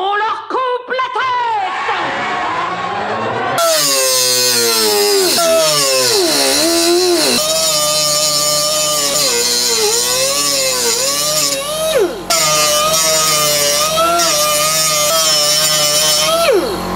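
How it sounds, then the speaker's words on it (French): An angle grinder cuts off screw heads on the rear axle and chassis of a Rodius. A loud, steady, high whine rises and falls in pitch as the disc bites and frees, running almost continuously. "Avec la meuleuse ça va pas parce que le plastique chauffe et fond"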